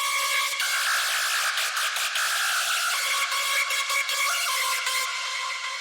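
A screechy hardstyle lead synth with fast free-running saw-wave LFO pitch modulation, a continuous buzzing, rapidly warbling tone with ratchet-like flutter, loud and unbroken throughout.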